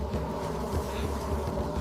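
A dense swarm of bees buzzes loudly and continuously around a person fleeing through a jungle, the droning hum steady and close with no pauses.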